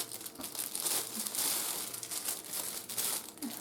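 Plastic wrapping from baggy rack holders crinkles and crumples nearby at low volume, in continuous irregular rustles and crackles with no speech.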